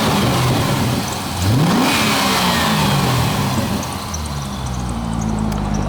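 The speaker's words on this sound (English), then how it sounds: "Go ahead and rev it up." A 2008 C6 Corvette LS3 V8 with factory NPP exhaust revs up loudly and close, climbing in pitch, holding, then settling back toward idle over several seconds.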